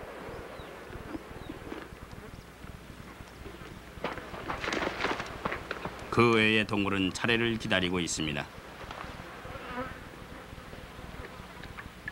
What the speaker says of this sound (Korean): 상승되는 온도에 따라 파리들이 아우성을 칩니다